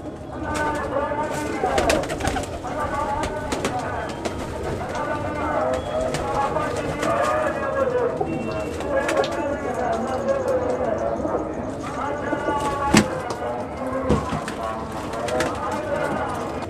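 Breeder pigeons coo in low, rolling calls at close range among scattered wing flaps and shuffling, while someone talks over them at length.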